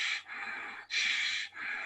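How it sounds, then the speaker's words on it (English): Ujjayi yoga breathing, slow ocean-like breaths drawn through a constricted throat, with three long hissing breath cycles, alternating inhale and exhale, close and clear with no talk. "I'm making Ujjayi just to make you hear"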